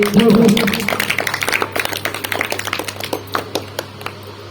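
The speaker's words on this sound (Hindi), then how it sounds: "जोरदार तालियों के साथ स्वागत कीजिए।" An audience at a 15 August Independence Day program claps to welcome a performer onto the stage, a dense burst that thins into scattered, fading hand claps.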